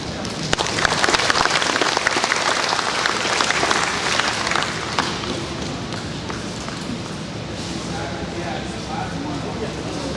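Audience applause at a harvest luncheon, a dense wash of clapping hands filling the room, loudest early then thinning to scattered claps and room murmur.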